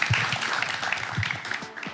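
Audience at a drone technology panel event claps for the panelists; a moderately loud, dense round of applause runs throughout with scattered individual claps standing out.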